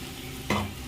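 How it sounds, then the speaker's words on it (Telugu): Coconut powder is stirred into an ivy gourd curry frying in a pan, giving a single short scrape against a soft, steady sizzle. "కొబ్బరి పొడి వేసేసుకొని ఒకసారి కలిపేసుకొని"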